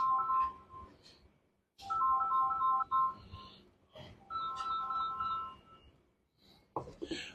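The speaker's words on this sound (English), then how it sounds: "let me just turn off my phone." A mobile phone ringtone plays a repeating electronic melody in several loud bursts separated by short pauses, fairly close and clear.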